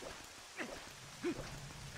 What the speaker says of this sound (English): And the rain at the start of the courtyard.